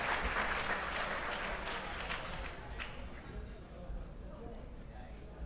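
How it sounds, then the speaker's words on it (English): A crowd applauds and cheers at a parkour world championship event, a steady wash of clapping that fades slightly. An announcer's voice talks over it. "big round of applause for women's skill semifinalists"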